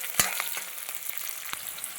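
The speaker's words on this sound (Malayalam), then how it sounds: "കരിവേപ്പില ഇടുന്നു. 3-4 ഇതൾ ഇട്ട് കൊടുക്കും. ജസ്റ്റ് ഒന്ന് വഴറ്റുക." Curry leaves sauté briefly in a hot pan, giving a close, steady frying hiss. A sharp crackle or tap comes near the start, followed by a few lighter stirring scrapes.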